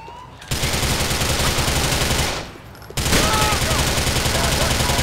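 Gunfire in the video game Grand Theft Auto 4, loud rapid bursts of shots in two sustained volleys separated by a brief lull.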